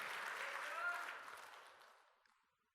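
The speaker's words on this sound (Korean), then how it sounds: "박수하면서 아멘 하십시다." Church congregation clapping together during a Korean sermon, a dense burst of applause that gradually fades out over a few seconds, fairly distant in a large hall.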